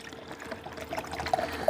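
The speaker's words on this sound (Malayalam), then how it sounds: "ഇത് പൂർണ്ണമായും ഞാനിതിലേക്ക് ഒഴിക്കുകയാണ്" Water pours from a container into a silicone kettle, a soft trickling stream that grows slightly louder and more gurgling as it fills, quiet and close with no talking.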